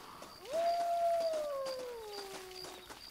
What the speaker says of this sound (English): I hear wolves.